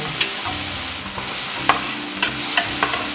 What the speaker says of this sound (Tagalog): kailangan na natin igisa itong tomato natin. Ayan. At white onion.